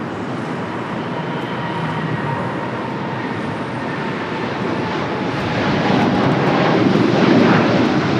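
An airliner coming in to land at LAX gives a steady, broad jet roar that swells louder toward the end, with no voices over it.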